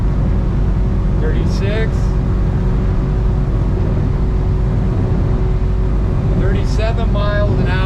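A Seasport 260 boat runs at speed on one motor, its engine and wind roaring loudly and steadily throughout, while someone speaks twice over the noise.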